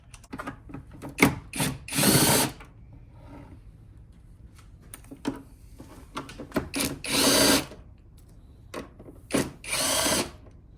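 Power tool whirring in short bursts while removing 10 millimeter bolts during a blow-off valve install on an Elantra N, close, with quiet clicks and handling noises between runs.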